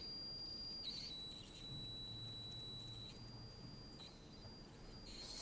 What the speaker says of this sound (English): Now I'm playing a motor signal through a speaker and getting these kind of, what could be quite nasty sounds